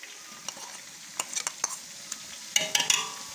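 Garlic sizzles in a pan with browned onions and chicken for biryani, a soft steady frying hiss broken by scattered clinks and scrapes of stirring that grow busier near the end.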